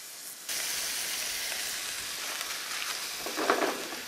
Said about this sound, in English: now we're gonna go ahead and fry off our bacon